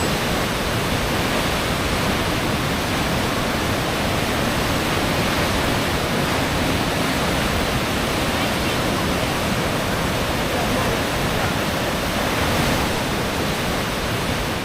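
Loud, constant roar of a waterfall near Taupo, New Zealand, a dense steady rush with no breaks that fills the whole scene.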